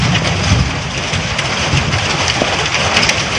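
Stones rain down during a phreatic eruption of Taal Volcano, a loud, dense, continuous patter like heavy rain on surfaces, with steady rushing noise throughout.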